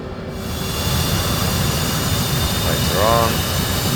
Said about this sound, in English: let's start up the left engine